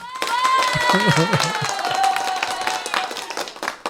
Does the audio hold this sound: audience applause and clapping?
yes